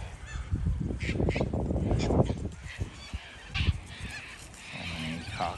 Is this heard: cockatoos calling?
yes